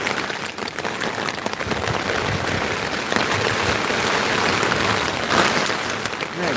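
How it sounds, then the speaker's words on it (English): Heavy rain pours down during an unexpected storm, a dense, steady hiss and patter with no breaks or talk. "Another unexpected storm. I didn't know it was supposed to get all rainy today."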